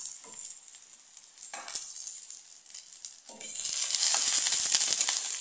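Eggplant frying in a pan, a steady bright sizzle of hot oil that swells louder and denser partway through, with brief scraping stirs.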